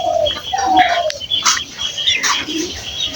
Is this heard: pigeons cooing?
yes